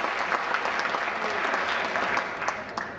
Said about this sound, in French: Maintenant, on peut l'applaudir.